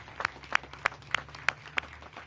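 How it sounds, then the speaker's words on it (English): A handful of sparse claps at a ribbon-cutting for Mayor Muriel Bowser at a family housing site, roughly six separate claps in a slow, irregular rhythm over a faint background. "Let's give her a round of applause for all the work that she's done."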